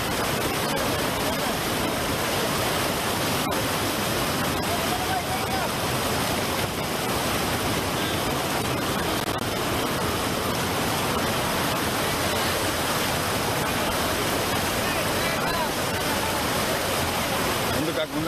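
Rainwater floods across a road during heavy rain in Gubbi taluk, a loud, unbroken rushing hiss like a waterfall, with indistinct voices under it.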